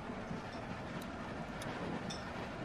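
Train running in The Walking Dead video game, a steady rumbling roll with faint rail clatter and a few high metallic squeaks, heard as continuous low noise without talk.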